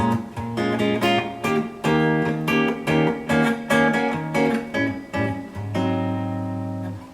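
Guitar chords strummed one after another in a steady rhythm, each ringing briefly, ending on a longer sustained chord; no talking.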